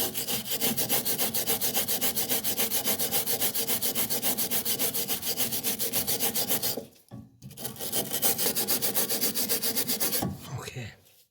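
Rapid back-and-forth scrubbing on the bolt threads of a Mercedes W202 C-Class track rod end, a close, rhythmic rasping that runs steadily, pauses briefly, resumes, then trails off.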